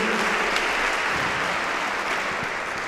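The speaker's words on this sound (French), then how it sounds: "Je crois qu'effectivement, on peut les applaudir." Applause for young female handball players after a training session demonstration, a dense, continuous patter of clapping that holds steady and eases slightly toward the end.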